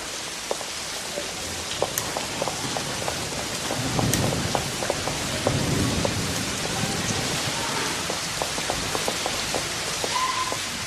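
Heavy torrential rain pours down in a steady dense hiss with scattered sharper drips and patters striking surfaces throughout, and no voices.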